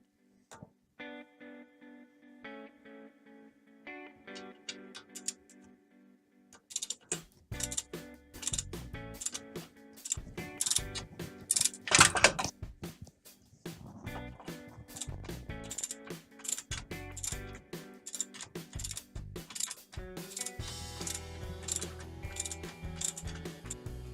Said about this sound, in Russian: Дальше откручиваем болты на 13